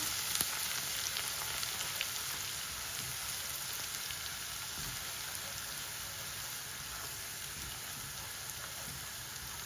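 Garlic frying in hot oil in a pan for Sylheti tenga fish curry, a continuous close crackling sizzle with fine popping spatters, steady and moderately loud with no talking.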